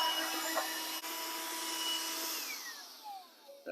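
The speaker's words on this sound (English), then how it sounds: "Finally remembered my little dust buster." Small handheld cordless vacuum running inside an abandoned Galaxie station wagon, a steady close whine with a strong suction hiss that holds throughout, with light bumps and scraping as it moves, and the motor pitch shifting near the end.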